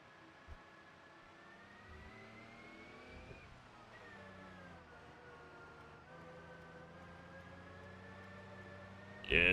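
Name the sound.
car engine accelerating hard in video game BeamNG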